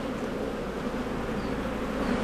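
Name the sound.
honey bees buzzing around an open hive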